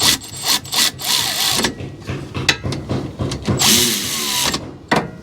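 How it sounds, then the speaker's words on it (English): A cordless Milwaukee power ratchet snugs the rear brake caliper slide pin bolts on a Toyota Camry, with close, buzzing motor bursts that start and stop repeatedly, mixed with clicks and metallic handling noises. "we'll get these snug with this Milwaukee ratchet"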